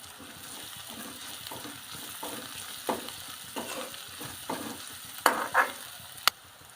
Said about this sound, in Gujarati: હાલો હવે નાખીશું લીલા મરચાં.